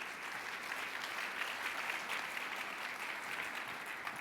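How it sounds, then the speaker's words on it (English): Audience applause after a keynote presentation on pricing strategy at a Dallas event, a steady broad wash of many hands clapping, moderately distant and even throughout. "All right, round of applause for Manoj."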